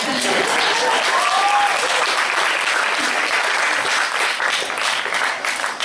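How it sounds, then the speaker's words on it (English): Loud, dense audience applause at a cultural event, a continuous roar of many hands clapping close by, with a few voices mixed in, holding steady before easing slightly at the end. "Can we get a round of applause, please?"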